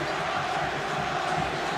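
Swiss football fans in a stadium at a Euro 96 match against England roar in a dense, sustained crowd din, loud and continuous, with commentary faintly underneath.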